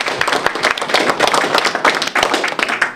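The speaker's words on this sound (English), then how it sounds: "I think we should applaud him for this" A conference audience claps for Richard Prasquier at a gathering of Jewish organization presidents; the applause is loud and close, with individual sharp hand claps standing out in an uneven, lively rhythm.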